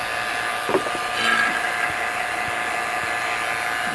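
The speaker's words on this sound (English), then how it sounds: "so let's flip the pump on and it'll go down to almost -30" A vacuum pump evacuates the refrigerant lines of a GREE three-zone 24,000 BTU mini split, holding a steady mechanical whir with a few small clicks and knocks from handling, and no talk.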